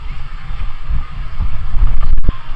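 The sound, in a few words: strong wind blowing at a Boracay beach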